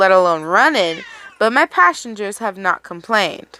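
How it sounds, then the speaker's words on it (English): A house cat meows with a drawn-out, rising and falling cry near the start, followed by someone talking steadily over the rest. "Sorry, that's my cat."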